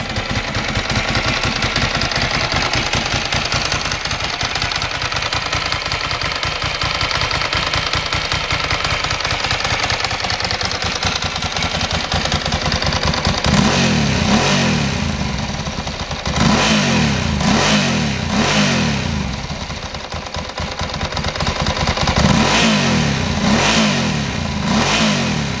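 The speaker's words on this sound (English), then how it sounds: "that's basically what a Multistrada sounds like with the Termi exhaust" A Ducati Multistrada motorcycle engine with a Termignoni exhaust runs steadily with a deep, throaty exhaust note, then revs up in several loud bursts that rise and fall.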